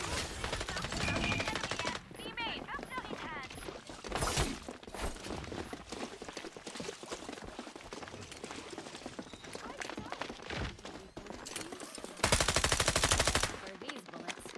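Rapid gunfire bursts rattle on and off in the online game Throne and Liberty amid busy combat effects, with talk running under the shooting.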